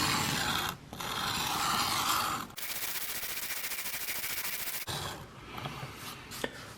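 A knife being sharpened on a 1200 grit whetstone makes close, continuous rasping strokes in several passes, separated by brief pauses.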